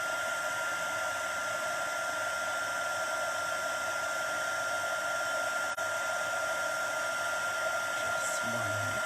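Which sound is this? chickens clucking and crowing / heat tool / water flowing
heat tool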